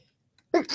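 A single sudden, loud sneeze bursting out after a moment of near silence, close by.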